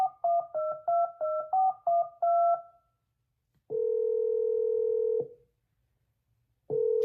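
Telephone dialing in a song skit: a rapid run of about eight short keypad tones, a pause, then a long steady dial tone and the start of another, loud and alone.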